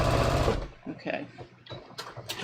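Sewing machine stitching a tee shirt quilt, a brief close whirring run that stops, then quieter handling sounds with a voice speaking.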